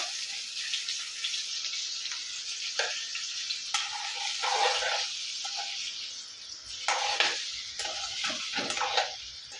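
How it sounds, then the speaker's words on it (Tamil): Four boiled eggs frying in oil in a pan for an egg gravy, a steady close sizzle with occasional stirring scrapes and clinks of the utensil, no voices. "இப்போ ஒரு நாலு முட்டையை நான் வேக வச்சு எடுத்து வச்சுருக்கேன் அதை நம்ம இதில் ஃப்ரை பண்ணி எடுத்துக்கலாம்"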